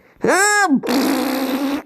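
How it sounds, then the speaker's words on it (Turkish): A loud cartoonish fart sound effect from the Roblox game MeepCity, a short rising-and-falling buzzy blurt followed by a longer raspy, sputtering blast, heard alone without talk. "Şimdi dedem yüzünü osuracağım."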